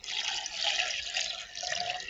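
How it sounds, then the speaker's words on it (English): Coconut water poured into a blender for a watercress, orange and coconut smoothie, a steady splashing liquid stream running close and continuous for about two seconds with no talk. "We're going to add 2 cups of coconut water."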